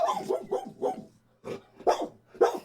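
A dog barks repeatedly, about six or seven close, sharp barks in uneven bursts with a short pause midway.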